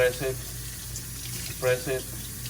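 A kitchen or bathroom tap runs water steadily while paint brushes are washed and squeezed under the stream, and a voice talks over the continuous flow.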